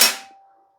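A single sharp crack from an airsoft AEG rifle, the BARRA Black Ops M4 Viper MK5, firing one BB during a velocity test, loud and close, with a short metallic ring trailing off.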